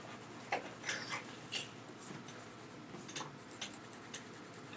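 A pencil scratches across paper, guided along a straight edge, in short, quiet strokes and scribbles with small pauses between them, close up in a hushed room.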